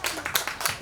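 Audience clapping at a pumba performance at the Masan Chrysanthemum Festival, a brief burst of a few close, rhythmic claps in quick succession.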